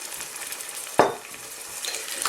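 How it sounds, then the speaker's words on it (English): Chopped onion cooks in oil in a pan for keema, giving a steady frying sizzle with one sharp stir or scrape burst near the middle, then continuing sizzle, close and moderately loud. "now we're going to just continue to cook the onion until it starts to brown"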